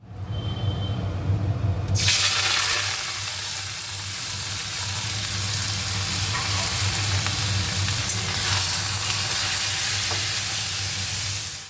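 Loud, steady sizzling and bubbling from a pot of khichuri on high heat, with a low hum beneath; a softer start gives way to constant frying noise.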